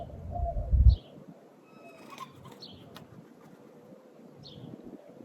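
Pigeons or doves coo softly outdoors, a low muffled coo at the start followed by a few faint, distant bird chirps over light wind noise.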